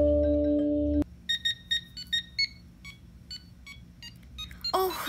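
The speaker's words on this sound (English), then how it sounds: "Oh, that's the Mario song." A DIY Arduino alarm clock beeps out the Mario theme as a quick run of short, clear electronic tones in a melodic pattern, heard up close in a quiet room after a brief louder sound at the start.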